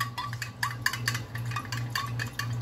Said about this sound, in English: You're just going to give it a good stir.